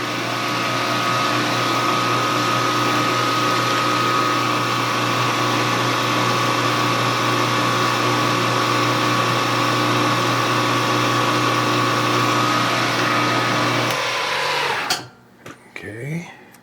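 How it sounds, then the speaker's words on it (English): A loud, steady mechanical whine of a drill boring through one metal wall, running continuously for about fourteen seconds, then cutting off abruptly, followed by brief quieter sounds. "And we just want to drill through one wall."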